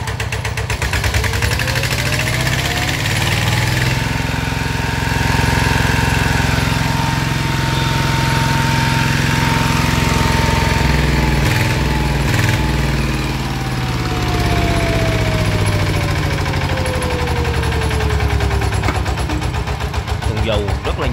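A used Kubota E8 diesel engine with an electric starter runs steadily and close up, a loud constant chugging drone whose pitch slowly rises and falls. Someone talks over it.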